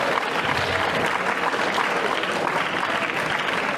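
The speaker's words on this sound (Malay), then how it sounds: "tepuk tangan untuk kamu." Audience applause fills the room at a religious talk, a steady, dense clapping from a crowd that continues evenly for several seconds.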